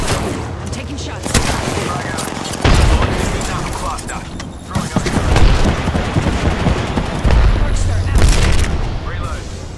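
Loud, close gunfire in the video game Apex Legends: bursts of shots and heavy booms, with someone talking over the action.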